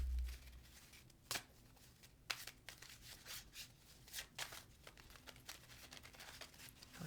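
A deck of tarot cards shuffled by hand, with soft papery riffles and slaps coming in uneven bursts, close and fairly quiet, with no talking.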